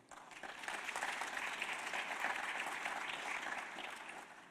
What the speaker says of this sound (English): may I invite the audience to recognize the panel with a round of applause